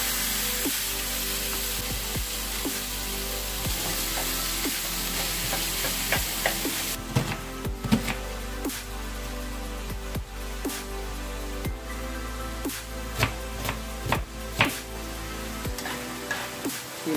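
A pound of ground beef sizzles steadily in a skillet with no added oil, a bright continuous frying hiss at first, then lower crackling broken by scraping stirs and occasional clacks of a utensil against the pan.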